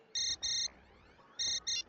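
A phone rings in two short bursts of paired electronic trill tones, a gap, then another double burst, loud and close with faint background between.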